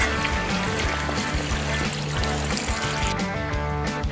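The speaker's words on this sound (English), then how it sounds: "These will add 3 cups of water." Three cups of water are poured into fresh beans in a Dutch oven, a loud, steady close pour that runs continuously for several seconds without talk.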